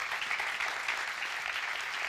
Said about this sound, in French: Je pense qu'on peut les applaudir chaleureusement.